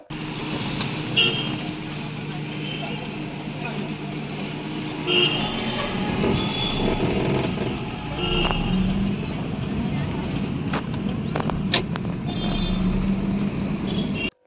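Steady road noise from a car carrying a family home toward a Shivaratri fair, with a continuous engine and tyre rumble throughout and a short horn toot partway along, under talk.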